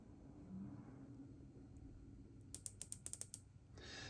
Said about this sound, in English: Has a nice satisfying click to the bezel.